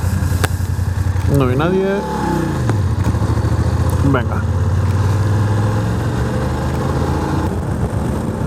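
A BMW F trail motorcycle rides along an Iceland road, its engine droning steadily and close, with someone speaking briefly over the running bike.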